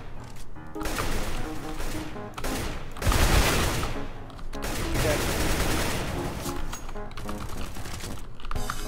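Rapid gunfire in the video game CS:GO, dense loud bursts of shots crackling almost without pause across the whole stretch, with a heavier crash-like burst near the middle.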